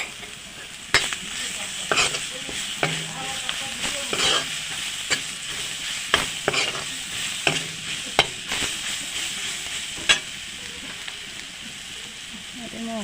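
Ginger garlic paste sizzles and fries in a pan while a spoon stirs it, with steady hissing and repeated scraping clicks against the cookware, close and continuous throughout.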